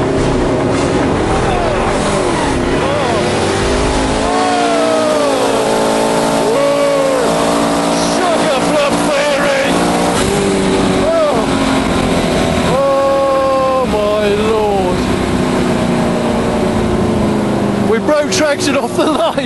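A Vauxhall Victor launches on a drag strip run, its tyres spinning as it breaks traction off the line, the engine roaring loud and continuous for the whole stretch while a crowd and announcer talk over it.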